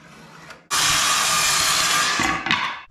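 A power saw trims wooden boards for a truck bed camper shelf, cutting in one loud sustained rasping burst of about two seconds that winds down at the end, close by with no talk.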